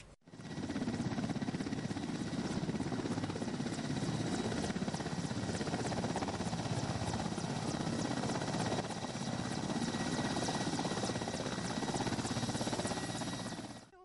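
A helicopter drones steadily overhead, its rotor thrum continuous and loud for the whole stretch with no other sounds standing out.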